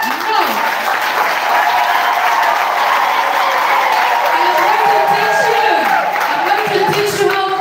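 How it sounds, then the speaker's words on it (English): A large crowd at a pilgrimage at St. Padre Pio Shrine in Kabulamuliro claps continuously, dense and loud, with voices and shouts mixed in throughout. "the way you're clapping"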